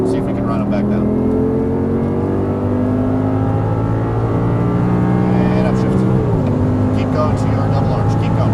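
An Audi R8 accelerates on a race track, its engine a loud sustained drone rising in pitch, dipping briefly at a gear change, then climbing again, with a voice talking over it.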